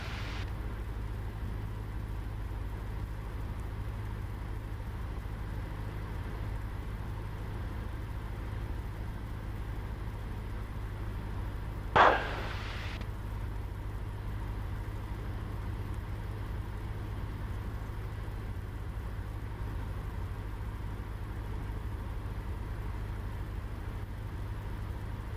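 Light aircraft VH-PAA droning steadily in the cockpit with its engine throttled back to 1500 rpm, a constant low hum throughout with one brief click near the middle.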